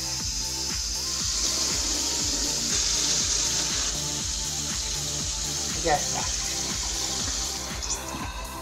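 Cold tap water runs steadily over a hot pressure cooker in a kitchen to cool it down, a continuous splashing rush under a voice speaking Spanish.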